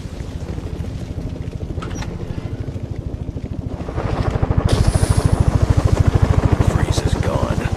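A helicopter flies in Batman: Arkham Origins, its rapid, steady rotor chop loud and close, swelling and growing more intense midway through, with voices speaking over it.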